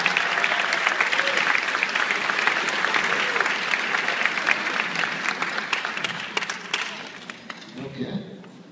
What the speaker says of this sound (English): give one more round of applause to all the soloists of the evening